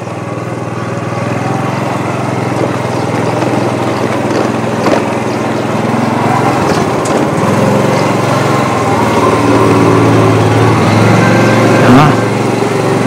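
A motorbike engine drones continuously in a narrow alley of a poor Saigon neighbourhood, loud and close with a buzzing, lawnmower-like tone that rises slightly at times.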